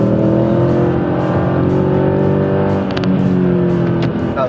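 Mercedes CL500 with a 5-litre V8 held at high revs near its 6,000 rpm limit, a loud steady engine roar with slight pitch drift and a few sharp clicks, close by.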